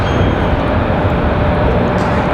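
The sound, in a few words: JetBlue airliner landing at Raleigh-Durham airport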